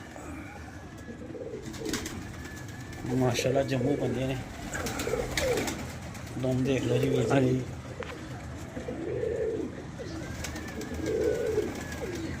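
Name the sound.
pigeons cooing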